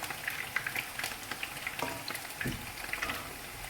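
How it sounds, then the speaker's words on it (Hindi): Minced meat (keema) frying in oil in a pan while making keema karela, a steady close sizzle with scattered crackles and pops throughout. "कीमे को अच्छी तरह भून लेंगे।"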